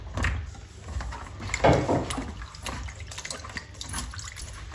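Water sloshes and splashes in a basin as eggplants are rubbed and rinsed by hand, close and continuous with occasional louder swishes.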